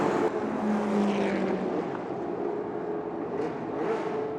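Vintage race cars, a Shelby GT350 and a Ferrari 275, race side by side in a production GT race at Sonoma, engines droning and revving as they pass at a distance, with a brief whine rising near the end.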